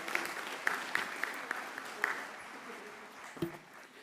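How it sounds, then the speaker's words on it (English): A college commencement audience applauds student speakers, steady clapping from a crowd filling the hall at moderate distance, with a few louder individual claps standing out and faint voices underneath. "Let's have a round of applause now for both of our student speakers, Emily Remillard and Rosabella Francis."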